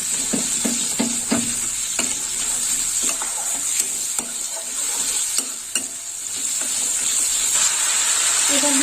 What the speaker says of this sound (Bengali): দিয়ে দিলাম মশলা মশলাটা একটু কষা হবে